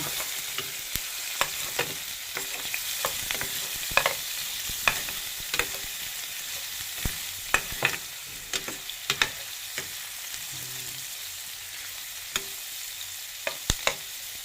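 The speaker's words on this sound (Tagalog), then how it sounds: "Haluin na natin." Monggo (mung beans) and pork being stirred in a frying pan, a steady sizzle with frequent sharp scrapes and clicks of the spoon against the pan, close and continuous without any voices.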